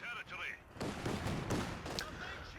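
Mortar and artillery fire in the Company of Heroes 2 strategy game, several booming impacts and bursts in quick succession amid battle noise, with a commentator's voice over parts of it.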